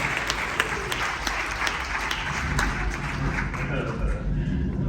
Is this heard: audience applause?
yes